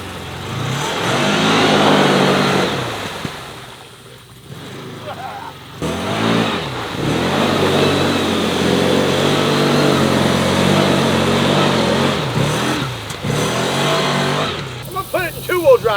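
A CFMOTO UFORCE 1000 side-by-side engine pulls in four-wheel drive low range, a loud, steady mid-pitched drone with shifting revs that runs almost the whole time, while a person talks over it.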